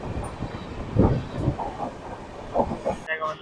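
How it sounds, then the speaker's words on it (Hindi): A Barmer Howrah Superfast Express train passes on an Indian railway line near Kanpur Central, its rumbling wheel noise and clattering cars rising and falling steadily at moderate loudness before a brief hiss near the end. "सामने से फिर से एक ट्रेन आ रही है, देखते हैं कौन सी है ये है बाड़मेर हावड़ा सुपरफास्ट एक्सप्रेस"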